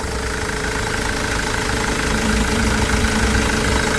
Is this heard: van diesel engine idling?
yes